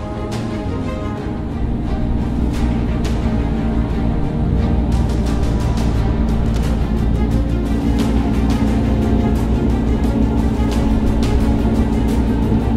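LaFerrari, McLaren P1 and Porsche 918 hypercars drive along the Bruntingthorpe main straight, making a continuous loud engine drone with rhythmic clicking pulses throughout.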